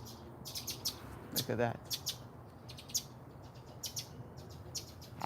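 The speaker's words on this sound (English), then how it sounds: "Can you hear the birds?" Birds chirp and tweet in a garden after a night of rain, with short bright calls repeating in bursts throughout, moderately close, while a person speaks briefly over them.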